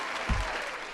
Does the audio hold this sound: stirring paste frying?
no